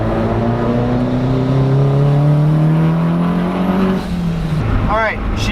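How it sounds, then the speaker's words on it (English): An SR240 car engine revs hard through a second gear pull, its pitch climbing steadily and loud throughout, then dropping sharply near the end as the gear shifts. "Alright, we're just gonna do a nice second gear pull."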